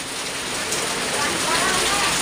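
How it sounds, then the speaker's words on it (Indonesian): Steady rain falls over a village in Sumedang during preparations for grilling satay at a celebration, a dense, even hiss of drops that stays close and continuous throughout. "di sini masih tetap suasana di masih hujan sobat tuh"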